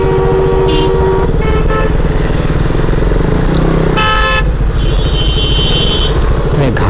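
A night traffic jam on the Mumbai-Goa highway near Indapur, with dense engine rumble, motorbikes and repeated car and truck horns honking close by, some held long, and people talking underneath.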